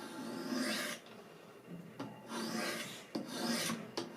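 Wicked Edge sharpener stones drawn lightly along a ZT 0770 knife edge set at 20 degrees to add a micro bevel: three close, dry rasping strokes, each about a second long, separated by short pauses, with no voices.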